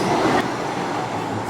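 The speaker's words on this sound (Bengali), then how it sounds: "4 নম্বর প্ল্যাটফর্ম থেকে পাস করছে পুরী হাওড়া বন্দে ভারত" The Puri-Howrah Vande Bharat express passes a station platform with a loud, steady rumble and rush of rail noise that stays constant the whole time and has no voices over it.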